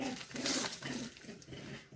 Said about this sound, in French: Désolée, les chiens jouent.